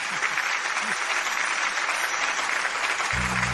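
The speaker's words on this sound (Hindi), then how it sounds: "तालियों की गड़गड़ाहट हमारे नवविवाहित जोड़े के लिए उनके इस बड़े दिन पर" Wedding guests applaud the newlywed couple in a loud, continuous burst of clapping, a brief murmur of voices near the start and a low tone entering at the end.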